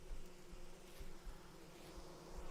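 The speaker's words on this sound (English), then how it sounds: "I didn't realize I had bees this close." Bees buzzing close by near a beehive, a steady droning hum with slight swells in loudness and no voices.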